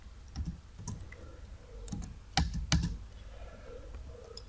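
Keystrokes on a computer keyboard while a FORTRAN program is entered, arriving as irregular close-up clicks in small bursts with a few louder taps near the middle.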